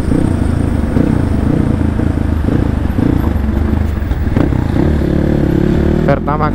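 A low-compression motorcycle engine runs steadily at a fuel station, a continuous close throbbing drone with a brief clatter near the end, while voices talk over it.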